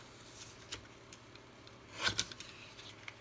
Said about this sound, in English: so I'm going to cut it just a little bit